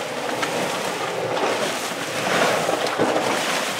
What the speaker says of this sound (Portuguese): Nós ouvimos o vulcão porque ouvimos a água borbulhar.